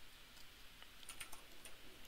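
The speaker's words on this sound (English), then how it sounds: "the intense concentration from the fucking metallic keyboard over there" Someone types on a metallic computer keyboard with quick, faint clicks in short clusters. The keystrokes sound distant and quiet over a steady background hiss.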